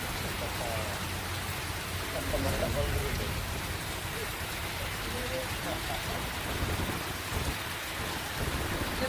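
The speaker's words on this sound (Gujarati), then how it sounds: "વરસાદ પડતા રોડ ઉપર પાણી વહેતા થયા હતા" Heavy monsoon rain pours down in Porbandar, Gujarat, a dense steady wash with low thunder rumbling beneath it throughout.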